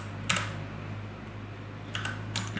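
Code being typed on a computer keyboard, in a few quick clusters of keystrokes separated by pauses, close but quiet over a low steady hum.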